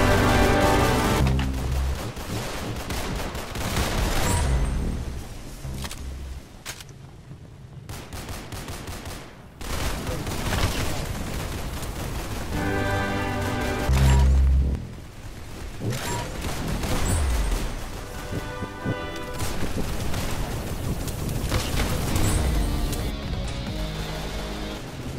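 Rapid gunfire from the Roblox shooter game Arsenal, with dense bursts of automatic shots and sharp single reports layered over game music and effects, loud and continuous for most of the stretch.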